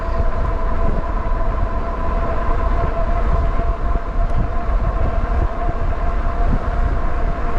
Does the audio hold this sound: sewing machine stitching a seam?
no